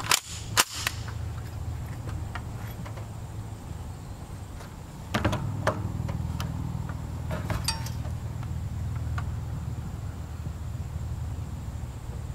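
Sharp, loud rifle shots crack near the start against a hardened steel armor plate, followed by metallic clatter and handling noises as the plate is moved, over a steady low background hum, with no talking.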